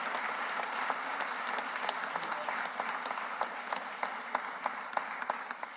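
An audience at a Philadelphia city press event gives a steady round of applause, dense clapping throughout with a few louder claps standing out toward the end.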